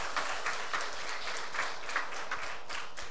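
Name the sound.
applause for the string accompanists in chapel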